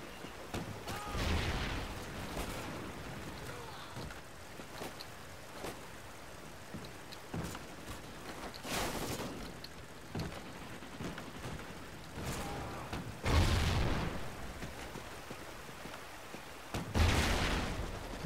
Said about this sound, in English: Who sees an explosion left, right and centre?